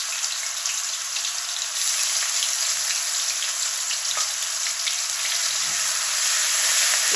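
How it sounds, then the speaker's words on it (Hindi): Ginger-garlic paste fries in a pan, cooking for mustard greens curry, giving a steady, even sizzle that stays loud and unbroken throughout, with no voices. "इसको थोड़ा सा फ्राई करेंगे"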